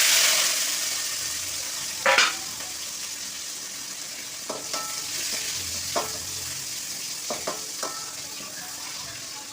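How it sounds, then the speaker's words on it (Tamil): Onion, green chillies and curry leaves hit hot oil with popped mustard seeds, a loud continuous sizzle broken by several sharp scrapes of a spoon stirring in the pan. "கடுகு பொரிஞ்சிட்டாங்க, வெங்காயம் பச்சை மிளகாய் கருவேப்பிலை மூணு."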